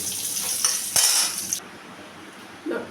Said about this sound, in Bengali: আলুটা এখন আমি একটু নুন হলুদ দিয়ে ভেজে নেব